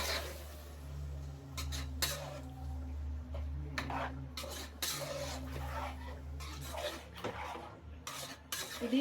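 Biryani ingredients being stirred and mixed in a cooking pot, with metal spoon scrapes and clinks against the pot over a steady low hum, continuous and close.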